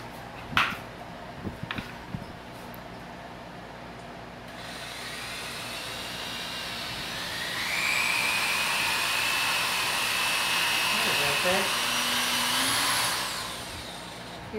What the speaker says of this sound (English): Now he's gonna drill more holes to put my crystal knobs.